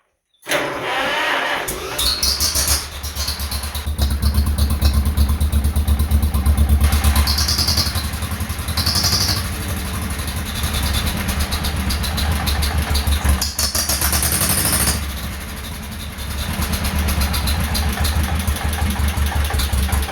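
A 1948 John Deere M tractor engine with a new stainless muffler starts up and runs steadily, a loud, continuous low chugging throb close by that carries on for the whole stretch with slight surges in level.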